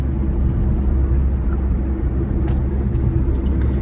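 Constant roar of highway traffic in India, a dense low rumble of passing vehicles heard close and loud throughout, with a few sharper whooshes late on.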